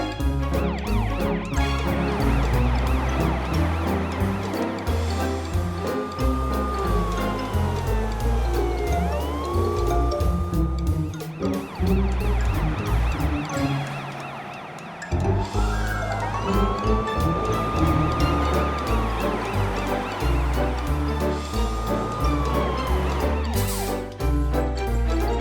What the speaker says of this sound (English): Now Morphle can see what a real fire truck can do.